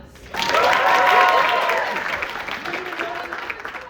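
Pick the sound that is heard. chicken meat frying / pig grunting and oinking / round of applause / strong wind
round of applause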